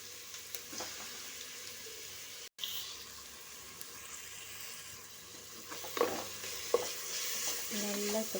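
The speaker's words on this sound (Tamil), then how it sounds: "நல்லா இப்போ கிளறி விட்டுக்கணும்." Mushroom biryani is stirred in a pan with an instant mix, giving soft scraping and stirring strokes over a faint sizzle, with a few sharper clinks of the spoon toward the end, quiet and close.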